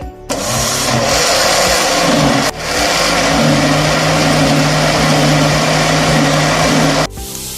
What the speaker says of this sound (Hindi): अब हम इसको दही को और बेसन को हम ग्राइंडर में मिक्स कर लेंगे